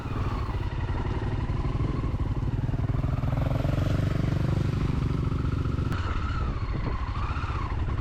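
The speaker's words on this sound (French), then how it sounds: "les motos ont bien ronronné en première" Motorcycle engines drone steadily at low revs in first gear on a muddy, rutted trail, a continuous rough rumble with slight pitch shifts, loud and close throughout.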